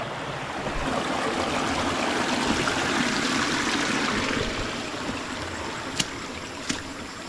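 A small rural creek with low water flows steadily nearby, a continuous close babble and trickle with a couple of sharp ticks near the end.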